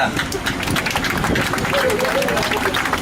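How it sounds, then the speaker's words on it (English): Tram tour riders at Universal Studios Hollywood clap for their driver, a dense burst of close applause with cheering and crowd chatter mixed in for the whole stretch. "Let's give a huge round of applause to our amazing driver, Preston."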